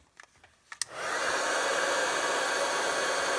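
Heat tool melting embossing powder on a stamped card: a few soft taps, then a steady blowing hum that switches on and runs continuously, fairly close and moderate in level.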